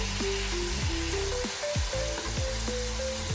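Beef stir-frying in butter with garlic in a pan, a continuous bright sizzle beneath a melodic musical backing.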